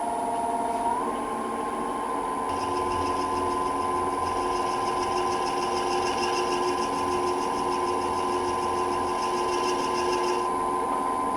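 Woodturning lathe spinning steadily with a faint scraping cut as the tool takes a nub of pith off the turned wood, a constant motor whine under intermittent light cutting, with no talk.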